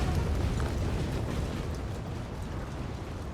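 Deep rumbling booms of artillery fire exploding in Napoleon Total War, a dense continuous low roar that slowly fades over a few seconds, distant and without speech.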